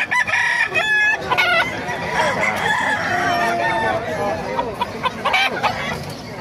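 A Talisay gamecock rooster crows loudly and repeatedly amid other roosters and fowl clucking close by on a busy rooster farm, with several overlapping calls throughout.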